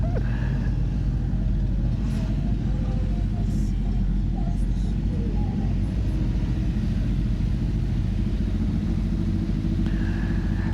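A Honda CBR 600 RR motorcycle rides over grass, its engine a continuous low rumble with steady wind and road noise, loud and unbroken for the whole stretch.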